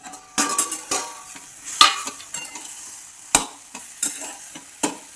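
Dill and pea bhaji being stirred in a pan as it cooks, with a series of sharp spoon scrapes and clinks against the metal over a low sizzle, close and moderately loud, with no talking.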